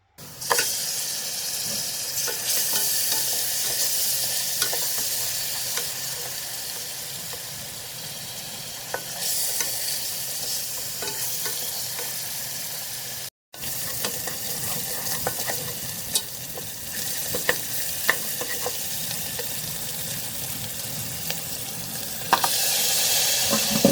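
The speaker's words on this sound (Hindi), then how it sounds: "लहसुन अदरक का पेस्ट भी भून जाए" Steady sizzling and frying of ginger garlic paste in a hot pan, with occasional stirring scrapes, continuous and close, briefly cutting out midway.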